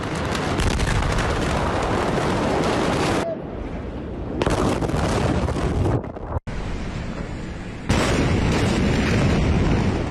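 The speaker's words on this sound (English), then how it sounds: "An explosion so powerful, shockwaves were reportedly felt clear across the Mediterranean in Cyprus." Massive blast in Beirut, Lebanon's capital, powerful enough to shatter glass: a loud, sustained broadband roar with windy, rumbling noise, abrupt cuts and bursts throughout, no speech.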